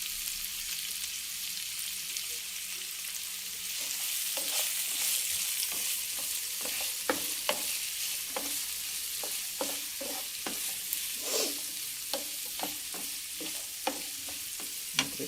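Sliced onions sizzle steadily in a pan with salt and turmeric, as a spoon scrapes and clicks in a rapid irregular rhythm over a constant hiss of frying.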